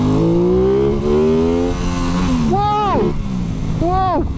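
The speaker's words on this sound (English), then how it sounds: "So first gear will lift the wheel, no problem at all." Accelerating hard in first gear, a punchy Aprilia Tuono 660 naked motorcycle lifts its front wheel, engine revving loud and close with a rising tone, then quick sharp rev blips.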